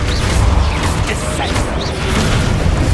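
Spell blasts boom and crash continuously in Hogwarts Legacy, a dense, loud barrage of magical impacts and whooshes, with shouted voices woven through the din.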